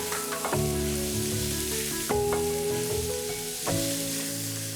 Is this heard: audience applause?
no